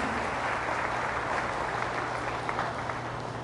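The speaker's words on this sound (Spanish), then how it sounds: "Denle un fuerte aplauso a la palabra de Dios" Congregation at a Catholic service applauding, a dense steady wash of clapping filling the room at a constant level under a low hum.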